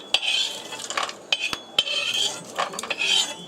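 Metal pot and utensil clatter while cooking cocoa beans in a kitchen: several sharp clanks and scrapes, with softer rattling and stirring in between, close and moderately loud.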